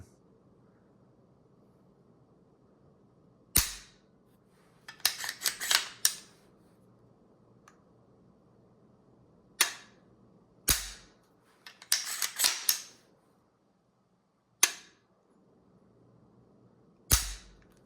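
B&T Elftmann single stage trigger dry firing, sharp isolated clicks spaced several seconds apart, some followed by clusters of quieter mechanical clatter as the action is reset, close up against a quiet background.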